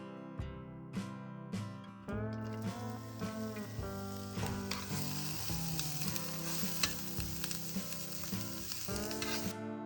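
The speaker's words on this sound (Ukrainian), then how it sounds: "Обсмажуємо часник та цибулю хвилин 5 на середньому вогні" Garlic and onion frying in hot oil over medium heat, a dense, continuous sizzle that rises after a quieter start, with faint clinks and tonal hum underneath.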